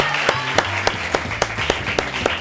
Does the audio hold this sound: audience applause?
yes